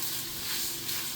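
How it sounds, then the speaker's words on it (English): Chopped garlic, a teaspoon of it, sautés in a pan over a low flame, giving a soft, steady, even sizzle that carries through the whole short moment with no voices. "we stir it, and keep the flame low while we saute"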